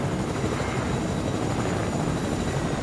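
Helicopter in a scavenger-challenge video game, its steady rotor and engine drone filling the whole stretch at an even, fairly loud level with no speech over it.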